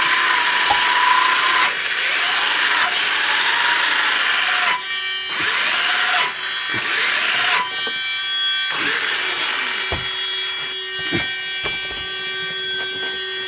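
Electric motor of a Losi Promoto-MX RC motorcycle whines loudly at about half throttle, its pitch wavering and dipping in repeated surges and cut-outs, close by with no talk.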